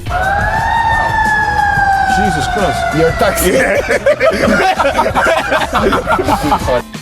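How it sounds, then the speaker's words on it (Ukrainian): An ambulance siren wails and sweeps steadily, loud and close, with a continuous harmonic tone; chatter and background noise rise beneath it in the second half. "почули звук з сирени швидкої"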